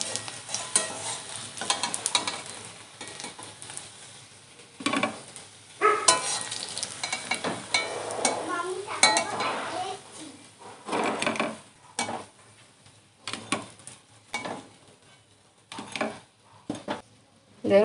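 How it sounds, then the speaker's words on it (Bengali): Flat bean fritters sizzle in hot oil in a pan while a spatula stirs and scrapes them, a soft steady crackle broken by intermittent louder scraping and clinking. "বড়াগুলো একটু লাল লাল করে ভেজে নিতে হবে"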